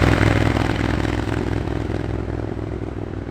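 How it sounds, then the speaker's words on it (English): A Triumph Speed Twin 1200 with Akrapovic slip-ons and a Motone X-pipe runs under engine braking with the throttle closed. Its exhaust gives a loud, close, continuous burbling rumble with a dense crackling texture and no talking. "Close that throttle and any amount of engine braking rewards you with a symphony of crackles and"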